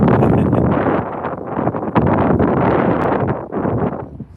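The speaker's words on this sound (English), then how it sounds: "It's still a bit windy, as you can probably hear." Strong gusty wind buffets the microphone outdoors in the aftermath of Storm Eunice, a loud broadband rush that swells and eases with no speech.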